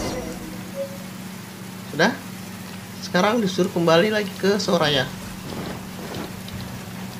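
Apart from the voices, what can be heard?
rain falling in the video game Genshin Impact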